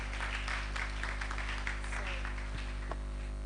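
Audience applause at the opening ceremony of a girls' STEM camp, welcoming a bank representative to the stage; steady, fairly quiet clapping from a crowd throughout, with a few sharper claps near the end.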